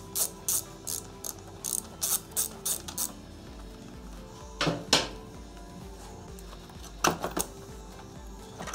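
A ratchet wrench with a 12 mm socket undoes a bolt on a Honda CBR600RR motorcycle, giving a quick series of crisp, close pawl clicks and then two more separate bursts of ratcheting after a pause.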